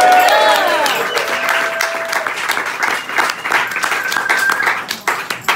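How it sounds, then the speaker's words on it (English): An audience applauding a band, loud dense clapping that fills the room from start to finish, with a few whistles and cheers rising over it at the start. "How about giving this band a nice round of applause?"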